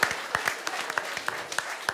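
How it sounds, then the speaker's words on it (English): A small audience applauds a Trump impersonator on a panel show, giving a short, fairly sparse round of clapping where individual claps stand out clearly. "round of applause for Alexander"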